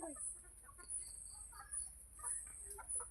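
Backyard chickens cluck softly and intermittently at a distance, in short scattered calls over a quiet background.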